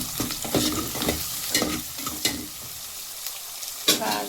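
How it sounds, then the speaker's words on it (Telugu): Garlic cloves frying in a pan for a brinjal curry, with repeated stirring strokes scraping through a steady close sizzle. "బాగా దోరగా వేయించి"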